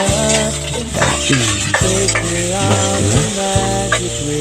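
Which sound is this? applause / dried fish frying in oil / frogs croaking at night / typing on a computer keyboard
dried fish frying in oil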